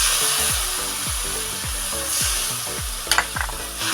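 A spice paste of poppy seed and mustard with sugar cooks in oil, a continuous close sizzle broken by rhythmic scraping strokes of a spatula, roughly two per second, with a couple of brighter clinks late on.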